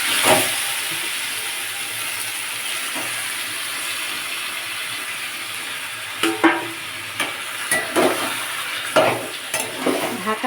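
Chicken leg and thigh pieces sauté in a pan for chicken rezala, a steady close sizzle with occasional scraping stirs and clatters growing more frequent toward the end.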